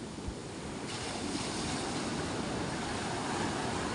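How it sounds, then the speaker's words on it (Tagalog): Small sea waves wash against moored boats in a steady, close rushing hiss, with gusting wind buffeting the microphone and no voices. "Kahit maliliit ang alon, pag hinampas sa bangkayan, puno ang tubig"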